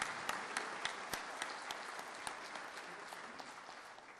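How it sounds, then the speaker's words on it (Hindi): An audience in the Gujarat Legislative Assembly applauds to welcome President Droupadi Murmu, with steady, fairly soft clapping running throughout and occasional sharper individual claps standing out. "आइए तालियों की गूंज से महामहिम राष्ट्रपति महोदया का स्वागत अभिनंदन करें।"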